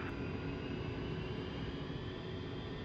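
A-10C jet engines in the DCS flight game spool up on the takeoff roll, a steady roar with a faint high whine, continuous and fairly loud with no talk.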